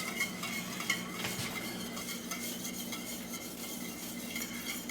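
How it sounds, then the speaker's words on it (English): A whisk scraping and clinking steadily in a pot as polenta is stirred into boiling water, soft metallic taps over a bubbling, hissing background, close but quiet. "So we're going to whisk this in a little bit slowly."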